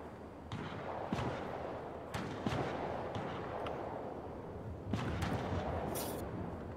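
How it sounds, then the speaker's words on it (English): Sniper rifle fire in the video game Fortnite, a few sharp cracks spaced several seconds apart over a dense, noisy backdrop of in-game gunfire and sound effects. "Well, I'm gonna snipe at them."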